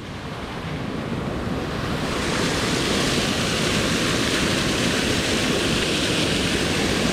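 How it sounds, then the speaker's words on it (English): Pressurised water gushes and roars continuously from a mine shaft at close range, a dense broad rush that swells slightly louder after the first couple of seconds and holds steady. "this is water pressure from the mine shaft being released out of the ground."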